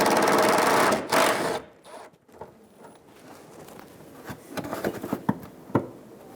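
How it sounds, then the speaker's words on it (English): A 10mm socket backs a bolt out of the corner of a 2007-2011 Toyota Camry front bumper, giving a rapid, loud ratcheting whir at first, then scattered faint clicks and taps as the bolt comes free. "Using a 10mm socket, remove the bolt out of the corner of the bumper."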